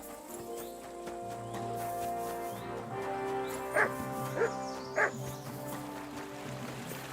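A dog barking in the medieval video game Kingdom Come: Deliverance II, three short loud barks spaced about a second apart over a steady bed of game music and ambience.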